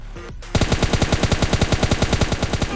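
Rapid automatic gunfire in the mobile video game PUBG Lite, a loud, steady burst of evenly spaced shots lasting over two seconds after a brief quieter start.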